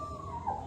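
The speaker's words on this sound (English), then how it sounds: "Lots of dogs." Dogs in Candidasa, Bali, in what sounds like a tonal whine or yip rather than a full bark, a short mid-pitched cry rising over steady background noise, moderately close.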